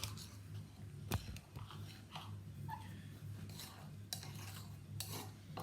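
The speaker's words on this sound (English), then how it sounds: "And you keep stirring it and you keep mixing it" Scone dough is stirred and mixed in a bowl, with soft irregular scraping and thumping strokes, quiet and close, plus a sharp knock at one point.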